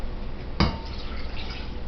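Water poured into a bowl for a Depression-era mock apple pie, a brief splash and trickle of liquid into the bowl, close and short.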